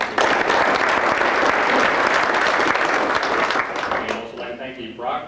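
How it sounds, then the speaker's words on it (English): Sustained, loud applause from a banquet audience at a Chamber of Commerce awards dinner, dense clapping that holds steady before thinning out near the end. "Let's have a round of applause for those companies."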